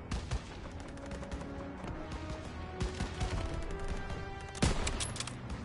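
Rapid bursts of World War II video game gunfire crackle over a dense, noisy battle backdrop, with a sharp heavy blast near the end.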